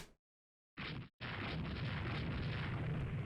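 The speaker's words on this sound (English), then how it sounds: "we just hit it with 3 more 16-inch shells" Heavy 16-inch battleship shells striking a target in the naval strategy game Rule the Waves 3: a short boom, a brief cutoff, then a loud, sustained rumbling roar of impact and fire, close and alone.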